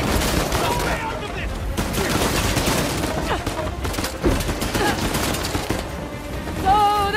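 Dense gunfire from the Uncharted: The Lost Legacy video game, rapid bursts and single shots crackling continuously amid booms, with voices shouting over the fighting.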